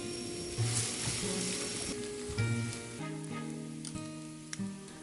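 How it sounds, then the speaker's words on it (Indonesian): A steady crackling sizzle of aromatics frying in oil, close and moderate, with faint background music and occasional stirring taps. "Lalu kita tumis bawang merah dan bawang putih yang sudah kita cincang halus tadi."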